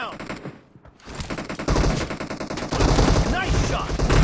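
Gunfire from shotguns in the battle-royale video game PUBG, dense bursts and loud blasts that build through the second half, with a brief quiet gap near the start.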